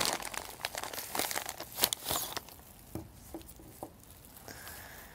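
VCI anti-rust plastic packing bags crinkled and handled for wrapping fuel injector spare parts, dense rustling in the first half, then sparse, quieter crackles and taps, with no voices.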